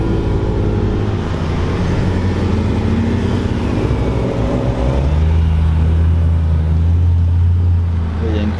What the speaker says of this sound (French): Il y a une Aventador qui arrive aussi.